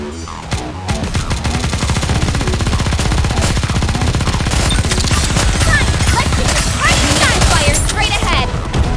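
Continuous rapid automatic gunfire from the NIKKE video game, loud and close, with dense bursts running for the whole stretch over game effects and music.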